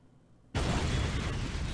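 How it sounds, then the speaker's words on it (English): A bomb blows up in the James Bond game The World Is Not Enough, a sudden loud blast that bursts out of near silence and holds as a dense, roaring rumble right up close. "Huge explosion."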